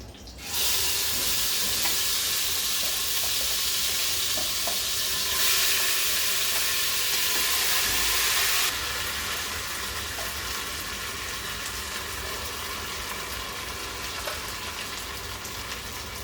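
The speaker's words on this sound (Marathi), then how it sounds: "आपलं तेल चांगलं तापलं आहे त्यामध्ये मला थोडासा कढीपत्ता तमालपत्र आणि आपण आता हा जो वाटलेला मसाला आहे तो आपण घालतो" Ground masala sizzles and fries in hot oil with curry leaves and bay leaves while Maharashtrian misal is cooked. A loud, steady sizzle runs throughout.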